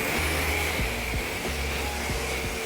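A car being rinsed with a water spray while it is prepped for polishing and ceramic coating, a loud, close, continuous hiss of spray with no pauses.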